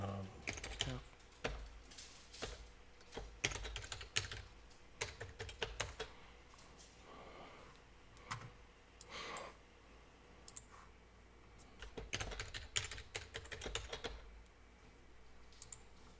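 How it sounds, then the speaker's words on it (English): Password being typed on a computer keyboard while logging into an SDDC Manager over SSH, heard as bursts of quick, close key clicks with short pauses in between and no one speaking. "so I type the password"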